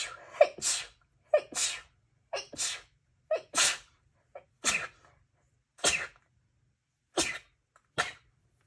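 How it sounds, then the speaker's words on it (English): A person sneezes repeatedly, about nine sharp close bursts each preceded by a quick inhale, spaced roughly a second apart in a quiet room. "I'm going to sneeze, everybody."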